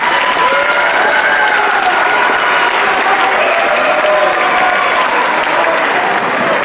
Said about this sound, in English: Give the candidates a round of applause,